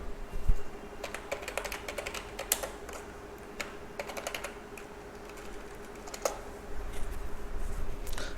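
Quick bursts of keystrokes on a computer keyboard, irregular clusters of soft clicks separated by short pauses, close and fairly quiet with a faint steady hum behind.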